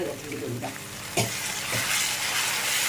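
Ingredients for a spicy South Indian kara chutney fry in a pan while being stirred, giving a steady, close sizzle broken by a few scraping strokes of the spoon.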